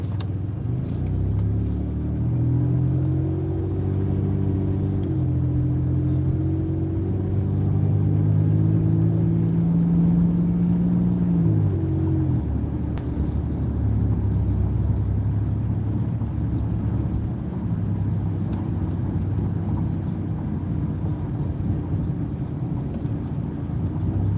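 A car driving during a beginner driving lesson, its engine droning steadily inside the cabin with the pitch rising and falling as it speeds up and eases off, plus some wind rush. No one speaks.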